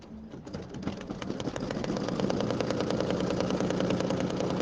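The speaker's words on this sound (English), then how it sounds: "And now we're going to stitch the tack down line." An embroidery machine stitches a tack-down line over Mylar on a tree table runner, a steady rapid mechanical whirring and clatter that builds slightly louder and then holds even and continuous, close and alone.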